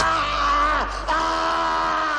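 A villain in a Steven Seagal action movie lets out a long, high-pitched scream that bends and falls, loud and up close over a sustained tonal background.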